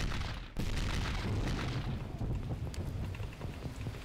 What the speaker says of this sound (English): let's shoot fireballs at this bear